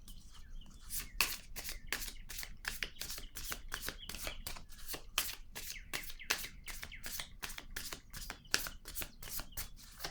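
Playing cards being handled on a surface, heard as a fast, close run of sharp dry flicks and slaps that repeat steadily throughout, with no talking.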